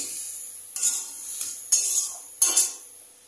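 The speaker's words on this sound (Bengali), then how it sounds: "দেন এটাকে এখন ভালো করে নাড়াচাড়া করে নিতে হবে" Potatoes and cauliflower with salt and turmeric stirred in a pan, three distinct scraping strokes of a utensil against the metal with short hissy bursts between quiet gaps, close and clear, no voices.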